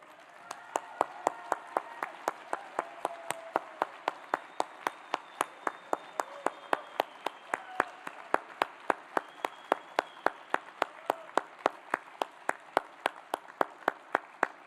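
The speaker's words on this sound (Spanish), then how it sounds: "les pido de la manera más cálida un fuerte aplauso" Warm audience applause for four women activists from Colombian territories at a drug policy gathering in Bogotá, steady close clapping with sharp individual claps standing out across the whole stretch.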